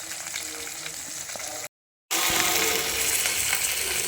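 Fish curry with eggplant and potato cooks over an open fire, giving a dense, steady sizzle and bubbling, close and loud, cut by a short silent gap before resuming even louder.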